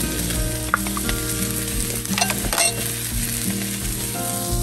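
Onions cooked down with green onion whites sizzle loudly and close in a pan, giving a constant crackling fry. Scattered clinks and scraping stirs rise out of the hiss, with no speech.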